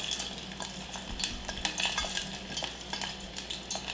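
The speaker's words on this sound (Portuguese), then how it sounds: "nossa ideia aqui, olha, é simples de deixar o alho dourando um pouco o nosso azeite" Garlic sizzles and browns in olive oil for spaghetti ai funghi, a steady close crackle broken by utensil scrapes and light stirring clinks throughout.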